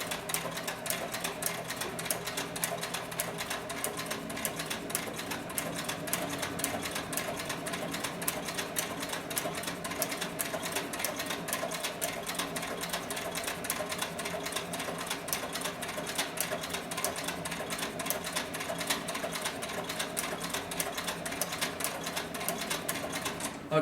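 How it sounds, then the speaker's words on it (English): Sewing machine stitching leather in a saddler's stitch, a steady dense run of rapid mechanical needle strikes that climbs in pace as the pedal is pressed further, close and continuous with no talk. "you'll see that the speed of the sewing machine can pick up"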